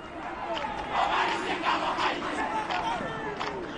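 Spectators at an under-18 schoolboy rugby quarter-final between Marist and RKS roar and chant together in a sustained, swelling wall of voices, with rhythmic shouted calls rising and falling throughout.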